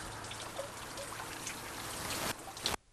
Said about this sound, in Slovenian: Zdaj pa zajameš vodo. Počakamo, da je vedro polno.